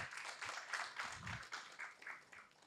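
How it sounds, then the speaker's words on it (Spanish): An audience applauding a panelist at a forum on deforestation and regenerative farming, the claps faint and distant and falling into a loose, regular rhythm for a few seconds. "Fuertes aplausos también para Nelson"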